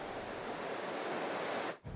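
Steady broadband rush of a waterfall in Marinette County, constant and loud throughout, briefly dropping out near the end before resuming.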